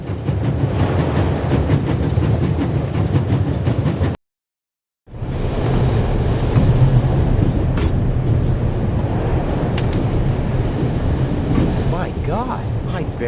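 A train moves on rails in the video game The Raven Remastered, a steady, close, rumbling clatter of wheels and carriages. The sound cuts to silence for about a second, then the same continuous roll resumes.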